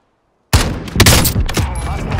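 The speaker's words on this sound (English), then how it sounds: "someone just tried to shoot me" Video game gunfire erupts suddenly after a moment of silence, a loud rapid barrage of close shots with sharp cracks standing out among the burst.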